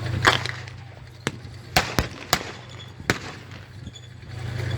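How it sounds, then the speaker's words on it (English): At a Tankfest battle display, an M24 Chaffee tank fires amid a scattering of sharp cracks and bangs, some distant and some nearer, over a steady low engine hum. "Chaffee's firing."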